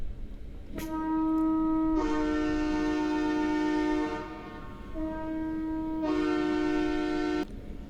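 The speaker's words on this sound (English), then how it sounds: "you will hear quite a bit of horns in the background." Loud, sustained train air horn blasts at a train days and classic car event in Silvis, Illinois, two long chords with a short break between, ringing over a low background rumble.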